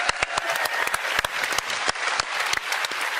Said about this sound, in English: Come out and get a burst of applause now